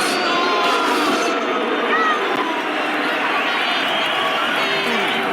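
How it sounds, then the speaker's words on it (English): Large boxing arena crowd roars and jeers as a fighter walks toward the ring, a dense, steady wall of massed voices filling the space throughout. "Listen to this crowd."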